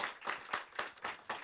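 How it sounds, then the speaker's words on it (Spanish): Church congregation applause offered to God, heard as a few quiet, distinct hand claps in an uneven rhythm, soft and brief. "Dele un fuerte aplauso a nuestro Dios"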